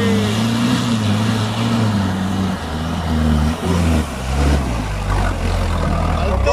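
An off-road 4x4 engine on a rough trail in Galicia revs close and loud, its note climbing and dropping through repeated bursts of acceleration.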